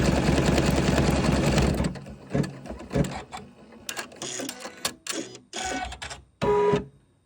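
A Janome embroidery machine stitches a cutwork patch with a dense, fast mechanical chatter for about two seconds, then stops and gives a string of separate clicks and short whirring bursts, close and alone.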